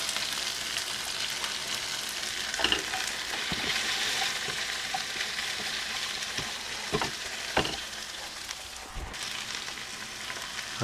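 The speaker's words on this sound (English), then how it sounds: "we're going to be frying these for 5 to 6 minutes or so, and stirring them quite often" Onions for a lamb Madras curry sizzle steadily in a hot pan, with a few sharp scraping knocks as they are stirred now and then.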